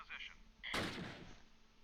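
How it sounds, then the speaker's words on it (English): Close Combat, a World War II strategy video game, fires a single loud gunshot with a sharp onset and a quick decay, following a short faint tone. "More shots fired."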